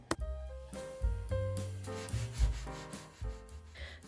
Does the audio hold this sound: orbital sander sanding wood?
yes